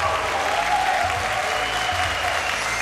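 Continuous applause from a TV talent-show audience, dense clapping at steady volume throughout, with no distinct voices above it.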